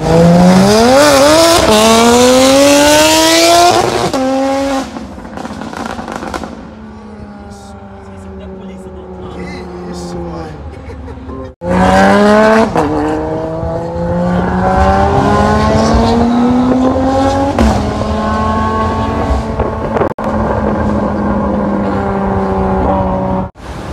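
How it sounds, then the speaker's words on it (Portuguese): A loud sports car engine roars and revs with rising and falling pitch, dropping off briefly before surging again, continuous and close throughout. "Esse carro tá animal, tá roncando demais."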